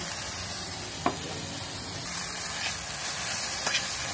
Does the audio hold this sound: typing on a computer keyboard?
no